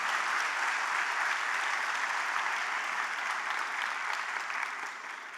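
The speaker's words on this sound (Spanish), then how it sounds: "Dale un aplauso de gratitud al Señor." A church congregation applauds steadily, with a dense wash of hand claps that stays even for several seconds and then tapers off at the close.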